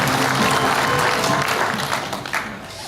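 Audience at a nuclear power policy forum in Gyeongju gives a short burst of applause, dense clapping from many hands that tapers off toward the end.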